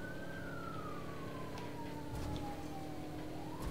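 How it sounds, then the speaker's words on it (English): A police car siren wails in a video game, a single rising-and-falling tone fairly faint over a steady engine and ambient rumble, with no talking. "It's another police car. They're on your trail."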